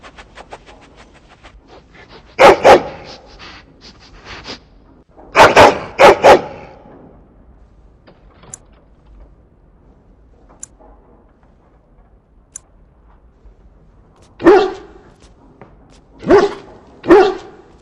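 A dog barks in the game Dragon Age Origins, loud and close, in short bursts of two or three barks separated by long quiet gaps, with faint panting between.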